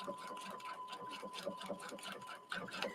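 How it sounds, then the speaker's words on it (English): A Brother sewing machine stitches through a single layer of fabric with the move-it foot engaged, giving a steady, fast mechanical whir with rapid needle ticking at close range and a slight lift near the end. "Now, I'm only sewing on one layer right now."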